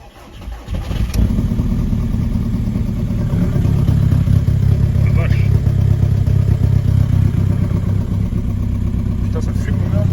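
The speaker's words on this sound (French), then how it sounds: "ça démarre à froid mon gars, ça fait du bruit" A Cupra car's diesel engine cold-starts with a quick crank, then settles into a loud, rough, steady idle close by, while someone talks over the noise.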